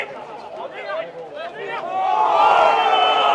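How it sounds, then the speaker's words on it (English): A country football crowd at a semi-final yells and calls out for holding the ball, with shouting voices rising into a loud, sustained roar near the end. "Crowd calling for holding it"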